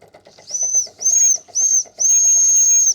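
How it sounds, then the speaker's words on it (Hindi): An old steam train's whistle sounds in four shrill blasts, three short then one long, loud and clear over a faint rhythmic chuffing of the small steam engine. "ट्रेन की जो पुरानी सीटी है"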